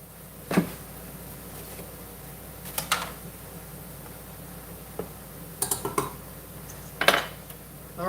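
Cassava flour stirred into a simmering pan for a sauce, sparse metal whisk clinks and taps against the pan at irregular intervals, close by over a quiet background hum.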